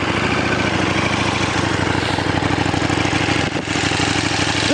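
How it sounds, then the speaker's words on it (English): A 2014 KTM 1290 Super Duke R with stock muffler idles, a steady close throbbing engine drone with an even pulsing rhythm and a brief dip near the end. "Let's go ahead and crank her up for you."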